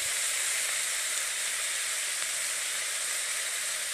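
Curry leaves sizzling and crackling steadily in hot oil, a bright continuous fry hiss close by that holds even throughout, with no voices over it.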